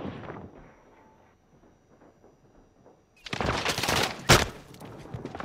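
Automatic gunfire in the battle royale shooter Warzone. A few seconds of quiet, muffled talk give way to a sudden loud burst of close shots with one sharp, heavy crack near the end.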